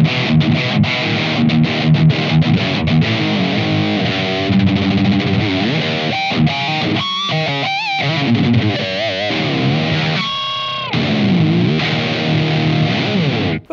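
Electric guitar played through an overdrive pedal into a Blackstar AMPED-1 100-watt pedalboard amp, heavy metal-style tone: loud, continuous distorted chords and riffs ringing out close and alone, with a few brief pauses and bends.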